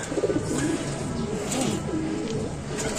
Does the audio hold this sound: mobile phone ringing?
no